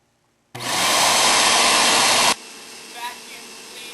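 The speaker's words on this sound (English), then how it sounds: "Vacuum cleaner of evil, you have been terminated." A vacuum cleaner switches on abruptly and roars loud and close for about two seconds, then cuts off, leaving a quieter background hum.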